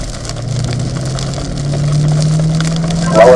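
Car engine held on throttle during wet laps on a rain-soaked race track, a steady loud drone that rises in pitch toward the end, with a brief crackle at the close.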